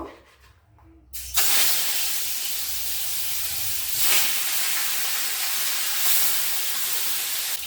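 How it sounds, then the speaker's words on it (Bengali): A turmeric-and-salt-coated fish head drops into hot oil after a second of near silence, setting off a loud, steady sizzle that hisses on with two brief surges. "এইবারে হলুদ নুন মাখানো মাছের মাথাটা দিয়ে দেব"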